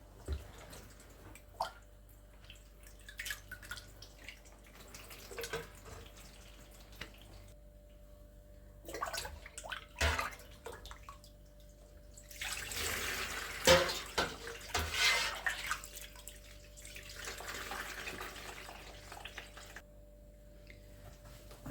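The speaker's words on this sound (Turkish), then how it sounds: "şimdi peynirimi süzülmeye bırakıyorum" Homemade full-fat village cheese curds draining whey, with liquid trickling, dripping and splashing in bursts of varying strength, louder toward the middle, in a quiet kitchen with no talk.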